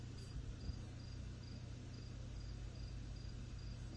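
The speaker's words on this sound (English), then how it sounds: "The crickets are up earlier than we are." Crickets chirp in a steady, evenly spaced high pulse, faint and distant over a constant low rumble and hiss, with no voices.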